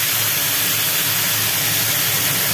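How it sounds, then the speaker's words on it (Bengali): Jackfruit sizzling loudly in a hot wok, a dense continuous hiss of frying close by with no voices. "এঁচোড়টা কড়ার মধ্যে দিয়ে দেওয়া হলো।"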